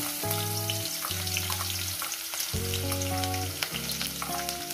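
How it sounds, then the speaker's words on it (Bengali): Garlic and green chilli frying in hot tempering oil with dried red chillies, a strong continuous sizzle with small pops, heard under a steady melodic background music track and no voices. "ফোড়নটা কয়েক সেকেন্ড ভেজে নেবো বন্ধুরা। দিয়ে দেবো এখানে রসুন আর কাঁচা লঙ্কাটা।"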